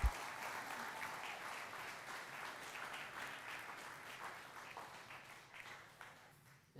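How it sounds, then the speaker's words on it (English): Church congregation applauding during a Sunday service, a steady wash of many hands clapping at moderate distance, fairly faint, tapering off over about seven seconds. "Can you give her a round of applause,"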